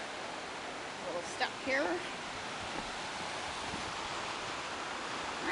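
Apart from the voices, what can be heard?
waterfall at Decew Falls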